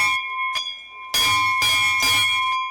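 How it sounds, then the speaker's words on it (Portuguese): The chapel bell at Engenho Carnijó, an old sugar mill in Pernambuco, is struck several times in close succession, each loud ring leaving a bright, sustained metallic tone. "E aqui tem um sino, ó."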